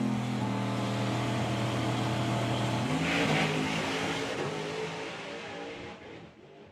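A twin-turbo Hemi drag car launching at a summer nationals drag race hooks and goes but sounds not quite right: a loud sustained engine roar with a steady droning tone that rises and then fades as the car pulls away.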